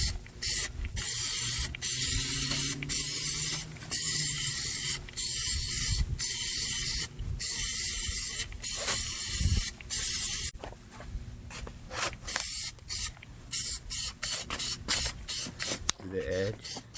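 Plasti Dip hisses from an aerosol can onto car rims in repeated short bursts, close and loud, with a few gaps between passes and a voice faintly under the spray.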